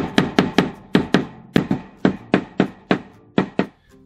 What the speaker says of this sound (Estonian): ma igaks juhuks löön alati haamriga need klambrid üle